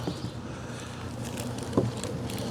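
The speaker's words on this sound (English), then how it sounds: "Eventually there'll be bees over here in this beehive" Bees around a beehive make a low, continuous buzzing hum close by, with brief louder passes as individual insects fly near.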